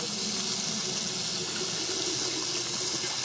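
Water runs steadily from a tap nearby, a constant bright hiss and splash with no pauses.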